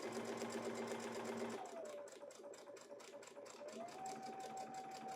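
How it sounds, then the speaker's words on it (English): A domestic sewing machine stitches forward to ruffle fabric, a quiet, even run of rapid mechanical ticks whose motor pitch shifts slightly as the speed changes. "now we're just going to go ahead and sew forward"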